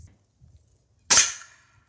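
A Hornet .22 caliber air rifle fires a 14.3-grain pellet at a pine board, producing one sharp, loud crack that decays quickly, with near silence before and after.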